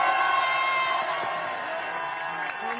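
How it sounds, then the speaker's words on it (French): Crowd at an outdoor Tour de France village start in Le Touquet cheering and applauding, a dense, sustained wash of voices and clapping at moderate distance. "Les gens applaudissent le blouson."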